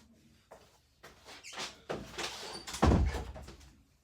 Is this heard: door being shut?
yes